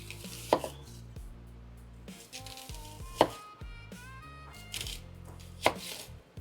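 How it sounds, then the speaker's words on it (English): A knife chops through a yellow onion on a cutting board, with three sharp, loud thumps spaced a couple of seconds apart amid quieter slicing, light rustling and a faint tonal whistle. "I'm just gonna slice the onion and we're gonna chop it up into small pieces"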